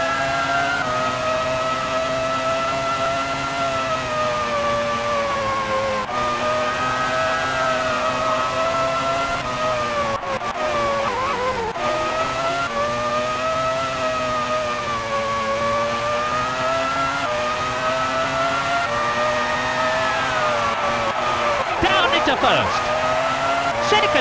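A race car engine in a racing video game holds a steady, loud whine that rises and falls as it shifts through the gears, with tire squeal, all under continuous commentary.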